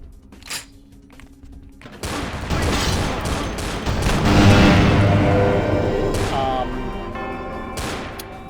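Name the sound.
grenade launcher explosions in Vampire the Masquerade video game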